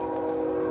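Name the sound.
train passing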